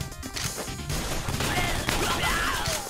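Dense gunfire and crashing impacts from the side-scrolling shooter game Mercenary Kings, a steady loud barrage of shots and hits that fills the whole stretch with little pause.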